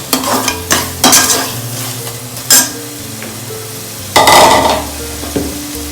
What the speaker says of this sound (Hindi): इसको अच्छा स्टर करें।